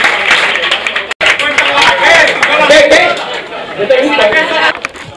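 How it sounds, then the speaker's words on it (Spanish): Audience clapping at an acoustic concert, brisk hand claps from a small crowd mixed with loud chatter and voices, with a brief break partway through. "¡Un aplauso para ellos!"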